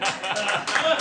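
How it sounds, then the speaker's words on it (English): A studio audience claps in a dense burst of applause, loud and close, with some chuckles mixed in. "Yeah, you can clap at that."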